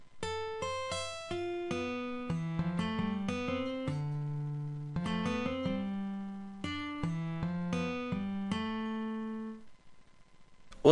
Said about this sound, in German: Das gleiche mache ich mal bei der Steel-Gitarre, die hört sich wie folgt an.